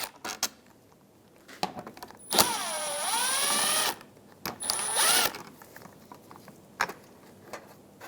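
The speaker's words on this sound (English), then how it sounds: "Using a 10mm socket, remove the two license plate bracket bolts." A 10mm socket on a power driver backs out the license plate bracket bolts of a 2007-2011 Toyota Camry: two close whirring bursts, the first longer with its pitch sliding and the second short, set among small clicks and handling knocks.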